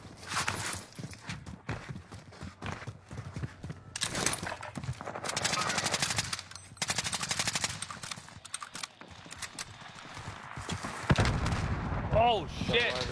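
In a video game, rapid bursts of gunfire crackle throughout, and an airstrike lands as a heavy, loud blast near the end, with players talking over the action.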